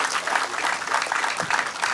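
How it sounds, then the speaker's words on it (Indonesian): A crowd at an outdoor gathering on a smallholder oil palm replanting program claps together in a brief, dense burst of applause, steady and fairly near throughout. "Tepuk tangan."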